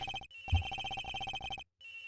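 A phone rings in the Ace Attorney Investigations video game, with repeated electronic trilling bursts that pause briefly, clear and fairly quiet.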